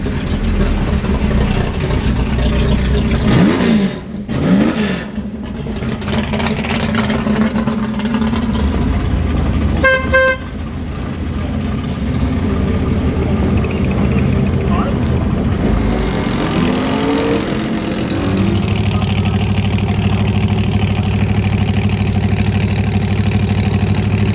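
A smart car engine drones loud and steady while driving, rising and falling with a few shifts in pitch and some clanks, the cabin noise constant throughout.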